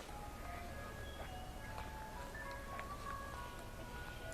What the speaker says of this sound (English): Hear the ice cream truck.